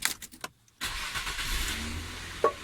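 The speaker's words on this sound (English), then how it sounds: "We're gonna check now to see if it actually starts and runs." Nissan Cefiro A32 with a VQ20DE engine cranks and fires after an alternator replacement, a brief starter whir followed by a pause, then the engine catches and settles into a steady idle.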